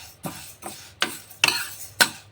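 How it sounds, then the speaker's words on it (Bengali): Lentils lightly frying in a pan, stirred with a spatula: five soft, evenly spaced scraping strokes with a faint sizzle underneath, close and quiet. "ডালটা একটু হালকা ভেজে নিচ্ছি"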